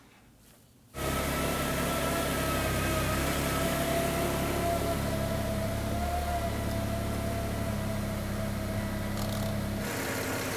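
A 2003-2014 Volvo XC90 3.2L inline-six starts after a short quiet moment, then idles with a steady, loud, continuous drone and hiss throughout, close up with no talking.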